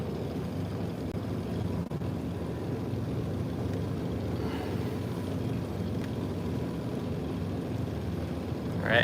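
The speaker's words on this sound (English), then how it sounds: "All right, engines are on." Engines idle steadily on a sailboat in the Caribbean, a low constant rumble heard close by with light wind noise and no talk.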